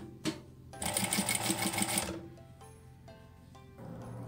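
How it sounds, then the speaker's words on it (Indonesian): A high speed sewing machine runs a short burst of rapid stitching to lock a seam, a fast whirring rattle lasting about a second, preceded by a click and followed by quieter mechanical clicks and hum. "Sekarang kita coba dengan menjahit, mengunci jahitan."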